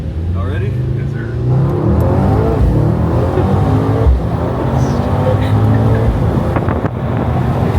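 A tuned Mercedes-AMG GT63s accelerates hard with windows partly down, its engine roar rising and holding loud throughout, with a few sharp exhaust pops near the end and wind rush mixed in.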